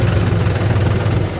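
A New Holland 5510 tractor engine runs at a steady, loud, low rumble while lifting a rotavator, heard up close in a short burst.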